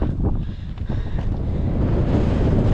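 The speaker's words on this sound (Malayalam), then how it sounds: "നല്ല വെയിലും നല്ല തണുത്ത കാറ്റും" A cold wind sweeps over an open hilltop at Varattumedu in Vagamon, roaring steadily into the microphone as continuous low buffeting rumble with no voices.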